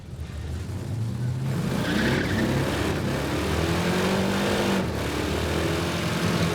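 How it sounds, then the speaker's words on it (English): A 440-powered Dodge Dart makes a drag run, its engine roaring and rising in pitch as the tires spin and squeal the whole way down the strip, loud and sustained. "He is spinning his tires the whole way."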